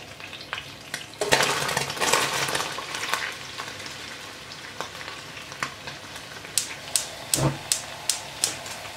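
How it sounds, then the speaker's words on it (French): Onions frying in oil in a pan for chicken karahi, a bright sizzle with scraping stirs early on, then a run of evenly spaced crisp spatula taps near the end. "dans le même huile, on va mettre les oignons"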